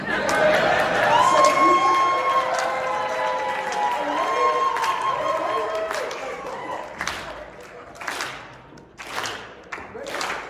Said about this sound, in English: So clap your hands, everybody.